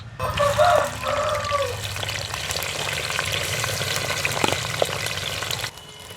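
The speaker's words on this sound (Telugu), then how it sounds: "ఎరగడ్డ వేయించుకుంటాం" Onions frying in hot oil in a pan give a steady, moderate sizzle and crackle throughout, with occasional stirring scrapes, during preparation of a mushroom biryani.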